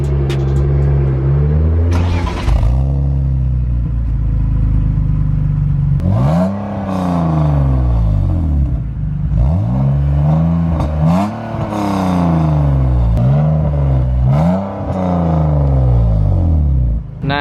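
A GTR sports car's engine revs loudly and close by in repeated sharp bursts, each rising and falling, between steady rumbling idle, with no talk over it.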